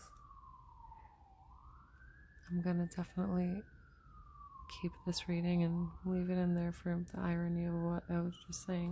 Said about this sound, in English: I'm so sorry about the ambulances.